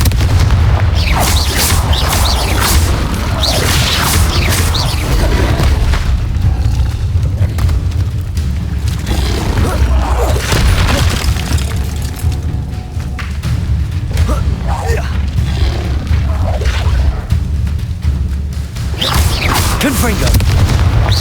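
Repeated fiery Confringo spell blasts in Hogwarts Legacy, heavy booming explosions landing one after another throughout a long combat stretch, loud and forceful, with a voice calling out spells among them.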